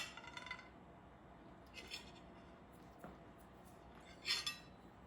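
Cutlery clinks and scrapes against a plate while a small piece of food is cut during a Valentine's dinner, a few faint, sparse metallic taps and chinks close by, the clearest cluster near the end, in a quiet room.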